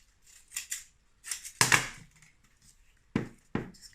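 Scissors snipping through paper while cutting a piece for a sketchbook cover, a few crisp close cuts in short bursts with pauses between them, no talking.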